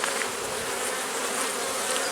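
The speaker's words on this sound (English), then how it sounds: "there's a good number of bees up here" Dense, steady buzzing of many honey bees close by at an open hive, a continuous droning hum with no talking.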